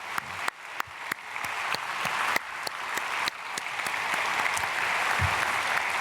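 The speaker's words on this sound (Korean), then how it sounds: "축복의 박수, 감사의 박수 보내겠습니다" Worshippers at a dawn prayer service in a church applaud, starting with a few sharp, spaced claps that quickly swell into dense, sustained applause from the whole room, with no speech.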